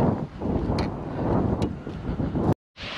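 Strong windstorm gusts buffet the microphone during a fishing outing, a loud, continuous roaring rush that cuts out abruptly near the end, then returns.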